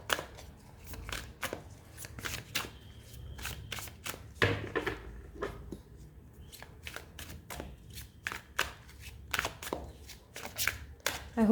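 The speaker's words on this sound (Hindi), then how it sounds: "please angels help me draw a few cards" Tarot cards being shuffled by hand, with repeated crisp riffles and slaps at a close, steady pace, brief pauses between bursts and no talk.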